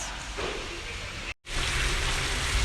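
Heavy rain falling in the foggy, cold hills of Murree, a dense continuous hiss of downpour that cuts out briefly for a moment mid-clip, then resumes just as strong.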